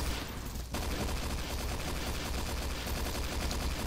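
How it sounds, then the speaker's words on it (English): Dense, continuous gunfire from the video game SMOD Outbreak, loud rapid bursts layered into a near-constant fusillade, with a brief lull early on before the shooting resumes at full intensity. "Jeez, all this shooting."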